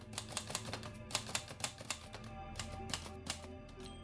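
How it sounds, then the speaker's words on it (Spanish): Keys clatter steadily on a Remington typewriter in quick, uneven bursts of sharp strikes, close and fairly quiet, with no talking. "corro a donde está la máquina, la destapo apresuradamente y tecleo de memoria algún trozo de lo más clásico."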